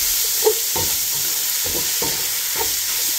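Sliced sausage and onion rings frying in a pan, a steady close sizzle with repeated scraping stirs of a utensil throughout.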